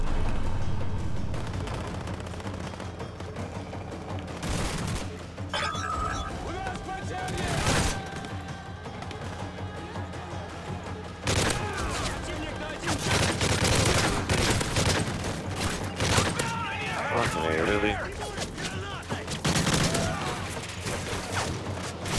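Assault rifle fire crackles in Call of Duty MW3 Special Ops, sustained bursts and single shots with booming impacts and explosions, loud and continuous, mixed with game sounds and voices talking over it.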